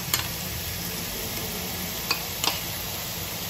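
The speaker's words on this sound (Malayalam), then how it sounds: "വെളുത്തുള്ളി ഇഞ്ചി പേസ്റ്റ് ഇട്ടു അതാണ് എന്നിട്ട് നന്നായിട്ട് കറക്കി വെക്കുക." Garlic ginger paste frying in a pan gives a steady soft sizzle, with a few faint clicks of a spoon stirring against the pan.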